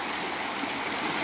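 A stream flows right beside a free campsite in Oregon, a steady broadband rush of water running without a break, close and fairly loud, with no voices over it.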